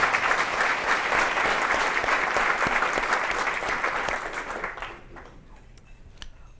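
Audience at the City Club of Cleveland applauding as Fatima Goss Graves is welcomed, dense steady clapping that fades out over the last two seconds.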